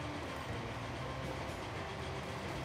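A steam passenger train with Pullman coaches in the Transport Fever game rolls past in a continuous dense rumble of wheels and rail noise, with no talking.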